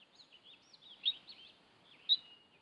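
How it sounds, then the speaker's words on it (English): A mother mountain lion's high, warbling chirps repeat in short bursts, two of them sharper and louder than the rest, over a quiet background. "A mother makes chirping sounds to collect her wandering offspring."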